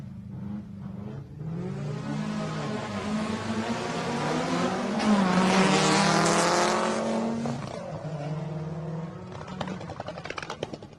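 A non-turbo rally car engine roars and revs hard on a rally stage in the Adelaide Hills, climbing in pitch as it accelerates past, with the howl rising and fading over several seconds.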